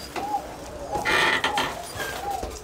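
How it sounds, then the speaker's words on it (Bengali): Koka pigeons coo in a large pigeon loft, several soft repeated coos at a moderate distance over a faint background of fluttering and other birds. "এখানে অনেকগুলো কবুতর আছে"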